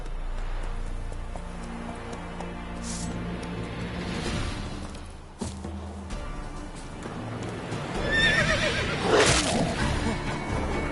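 Roach the horse from The Witcher 3: Wild Hunt neighs, a clear whinny near the end following quieter shuffling and clip-clop movement, with no voices.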